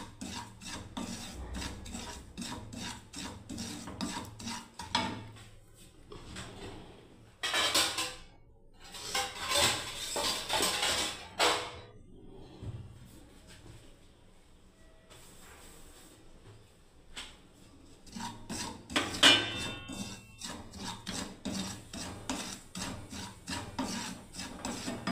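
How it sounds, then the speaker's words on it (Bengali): Semolina dry-roasted in a wooden-fired pan, giving a steady dry scraping and rasping as it is stirred, with repeated strokes and louder bursts of scraping throughout, no talking. "কাঠ খোলায় বন্ধুরা সুজিটাকে প্রথমে ভেজে নিলাম ভালোভাবে"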